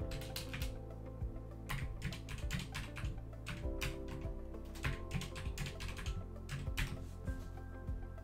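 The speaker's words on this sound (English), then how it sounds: "type in a password" Keys clatter as a password is typed on a computer keyboard during a Windows 11 password reset, a quick irregular run of close, moderately loud taps with short pauses between bursts.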